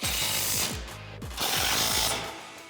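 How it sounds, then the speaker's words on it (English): A socket wrench ratchets rapidly in repeated bursts of clicks while tightening bolts on a bumper bracket for a 2013-2018 RAM 1500 Barricade HD winch front bumper, close and crisp with brief pauses between strokes. "grab your 18 deep socket and 18 wrench and tighten these down"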